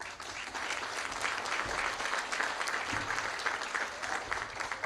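Audience applauding steadily at an outdoor groundbreaking ceremony for a college allied health and nursing center, a dense, even wash of many hands clapping throughout with no one speaking.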